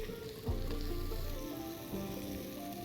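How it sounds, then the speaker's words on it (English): Curry paste cooking off in a pot for a coconut ramen soup, a steady close sizzle with a few soft clinks and scrapes, no voices. "allow the curry to cook off for just a couple minutes."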